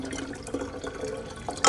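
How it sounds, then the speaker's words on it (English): Water poured from a bottle into a beaker of universal indicator for a dry ice color change demonstration, a soft continuous liquid splash and trickle, fairly quiet and close, ending with a brief louder gush. "just keep pouring up to about right there"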